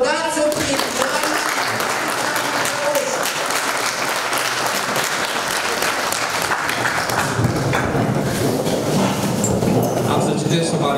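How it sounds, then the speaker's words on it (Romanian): Applause at a mayor's swearing-in ceremony in a council hall, steady and moderately loud throughout, with scattered voices underneath. "Aplaudați-o prin doamna."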